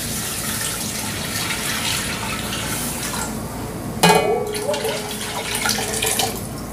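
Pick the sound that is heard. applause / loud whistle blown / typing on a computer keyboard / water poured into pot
water poured into pot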